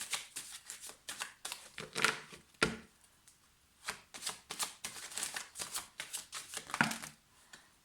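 Oracle cards being shuffled and drawn by hand in a quiet room, a long run of rapid riffling and sliding bursts with brief pauses between handfuls, close and fairly soft.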